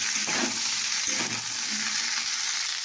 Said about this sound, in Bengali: আমার ফুলকপি তোলা ভাজা হয়ে গেছে